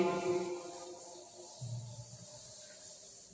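A board eraser scrubs a problem off a classroom board during a maths lesson, giving a short, steady scraping rub that fades after a few seconds, with no talking.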